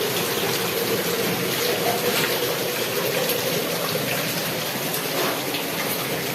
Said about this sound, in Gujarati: હજી ખતરનાક વરસાદ આવે છે ભાઈ